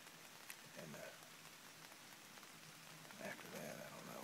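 Steady rain showers fall outdoors in the woods, a constant hiss of drops on surfaces, quiet and even throughout.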